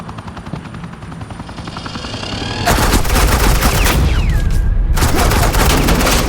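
Heavy suppressing gunfire in the video game Batman: The Enemy Within, a dense, loud burst of rapid shots that erupts midway over a droning engine hum and keeps going with a brief gap.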